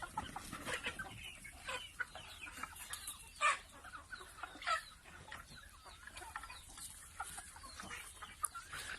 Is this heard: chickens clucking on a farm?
yes